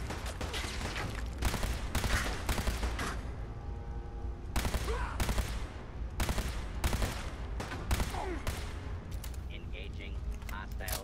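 Repeated bursts of Fallout 4 gunfire crack out in loud clusters with short gaps between volleys, while a voice talks over the shooting throughout.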